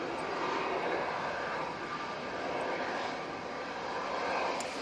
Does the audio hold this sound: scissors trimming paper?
no